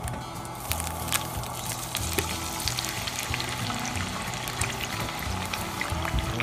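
Dry corn poured into a camp cooking pot outdoors, a steady trickling, rattling pour running for several seconds, fairly close and alone without talk.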